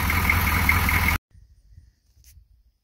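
An M1028A2 CUCV military pickup truck idles loudly and steadily for about a second before the engine is switched off, leaving near silence with faint low thumps.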